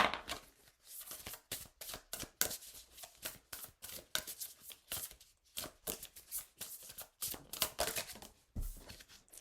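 Tarot cards shuffled by hand close up, a fast run of crisp riffling bursts and soft slaps, quiet and steady in rhythm.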